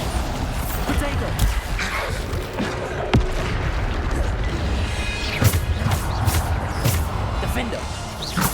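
Bombarda spell blasts from Hogwarts Legacy on PC, thudding bursts and crashes over constant game noise and a talking voice, with a few sharp impacts standing out.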